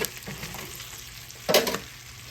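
Trout fillets fry in butter in a pan, giving a soft, crackling sizzle with a sharper burst of spattering and stirring partway through.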